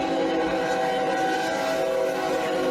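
A train rushes past at full speed close by, a steady loud roar of rail noise with sustained tonal whine filling the whole moment without a break.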